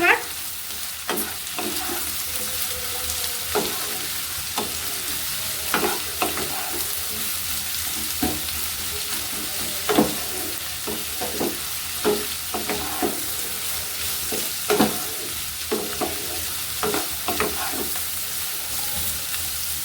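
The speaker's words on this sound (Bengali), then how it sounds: "সব কিছু ভালো করে ভাজা ভাজা করে নেব।" Chopped capsicum, green chillies and onion stir-fried in a pan for an egg masala pasta, a steady loud sizzle with frequent scraping spatula strokes throughout, close up and without speech.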